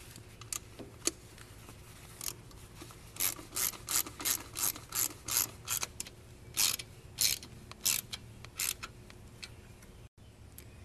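A socket wrench fitted with a homemade extender ratchets in short bursts of rapid clicking, close and clear, with pauses between strokes and no talking.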